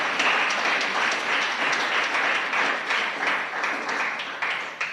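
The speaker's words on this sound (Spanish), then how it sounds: "Démosle un aplauso a esos ancianos de la iglesia que oran" A church congregation applauds the elders in a dense, continuous round of clapping that holds steady throughout, full and close.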